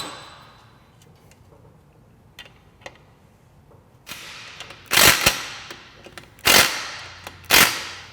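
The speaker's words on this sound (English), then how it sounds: "Now we're going to tighten the axle bolt and then torque the pinch bolts." Wrench tightening the axle bolt and torquing pinch bolts on a Timbersled snow bike kit, faint ticks at first, then three loud sharp clacks of a torque wrench breaking over, each followed by brief ratcheting.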